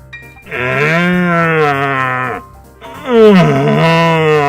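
Two long, loud, moaning bellows with a harmonic, groaning tone, a human voice imitating a red deer stag's roar, close and sustained.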